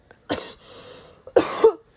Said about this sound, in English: just had a little cough